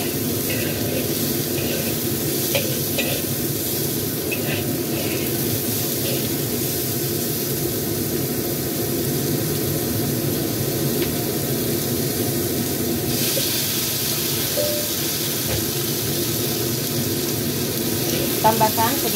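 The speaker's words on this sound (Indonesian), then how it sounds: "tambahkan batang seledri yang sudah kita potong-potong atau sudah kita iris. Tumis sampai dengan setengah matang aja ya" Sliced celery stalks stir-fried in a pan give a steady, continuous sizzle and hiss that runs the whole time, fairly close and even in level, with faint voice traces underneath.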